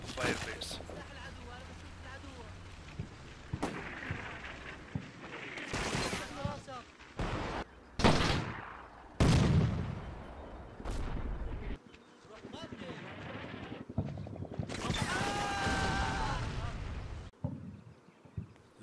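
Combat Mission Shock Force 2 battle with bursts of gunfire and heavy artillery blasts scattered through the clip, some sharp and loud, others distant, alongside a faint buzzing hum and brief pauses.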